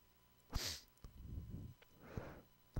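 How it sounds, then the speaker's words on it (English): A person sneezing while playing a computer game at home, one sharp burst near the mic followed by breathy snorts and sighs, with no talk. "I feel the real sneeze coming."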